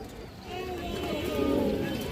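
A large female pigeon coos in a low, steady murmur that swells slightly toward the end, heard close and fairly quiet against a soft background hum.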